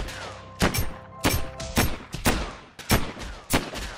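Rapid bursts of gunfire from shooting zombies in the Mini World game, sharp cracking shots fired in irregular clusters, loud and close, with no talking.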